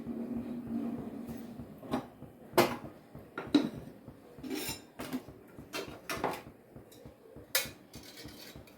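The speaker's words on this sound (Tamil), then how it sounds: "அடுப்பில் பாத்திரத்தை வச்சாச்சு" A metal cooking pot clanks onto a stove in a village kitchen, with a series of near, scattered knocks and scraping clatters of vessels and utensils.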